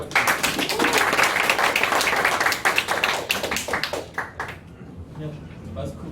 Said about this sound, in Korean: 오늘 우리 이사님을 위해서 뜨거운 박수 한번 부탁드립니다